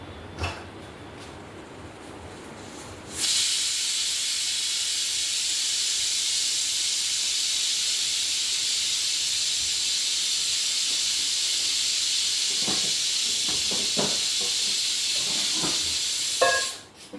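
After a soft rustle, a loud, steady hiss of escaping steam from a pot of boiling kidney beans starts abruptly and holds for many seconds before cutting off near the end.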